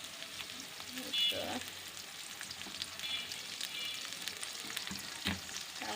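Garlic paste fries in a pan with a low, continuous sizzle, a few stirring clicks and a brief spoken word near the start.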